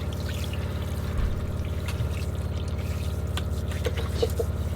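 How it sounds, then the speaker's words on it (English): Water pouring steadily from a portable camping shower outdoors, a continuous close splashing stream over a low background hum, with no talking. "So useful to have the shower."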